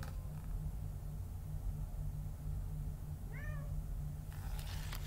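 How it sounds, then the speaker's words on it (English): A single short cat meow rises and falls over a steady low hum, fairly faint and alone, with no talking. "this is a cat"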